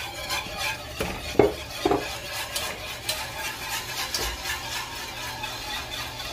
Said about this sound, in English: keep whisking it